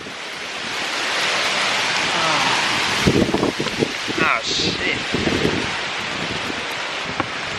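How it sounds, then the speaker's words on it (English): Steady tropical rain hiss in Africa mixes with gusting wind and surf-like roar, while a voice briefly exclaims and rustling, crackling noises sound close to the microphone. "Okay, you better hurry because it starts to rain."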